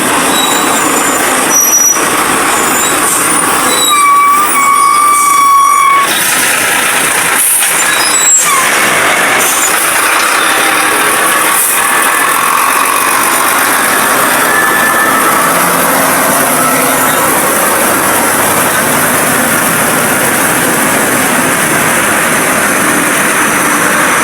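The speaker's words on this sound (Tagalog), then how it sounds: "So, may mga malaking truck din no. Dumaan." Large trucks, dump trucks among them, pass by on a road with engines rumbling and idling; sharp air-brake hisses and squeals stand out early, then a steady broad roar of traffic continues.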